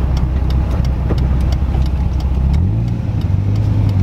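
Engine of a Nissan R32 Skyline GTS-T heard from inside while driving, a loud steady droning hum that drops to a lower pitch partway through as the revs change, with faint rhythmic ticking above.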